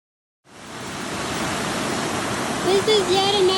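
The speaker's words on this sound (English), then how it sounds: "This is yet another wonderful creek called Bear Creek." Bear Creek rushes loudly and steadily in a broad hiss of flowing water, very close, swelling in after a moment of silence; a voice talks briefly over it near the end.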